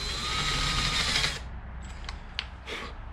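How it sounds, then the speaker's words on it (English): A power drill pre-drills and countersinks a screw hole while building a hexagon end table with hairpin legs: a loud, steady whir for over a second, then several short, quieter bursts of drilling. "so just pre-drill your hole"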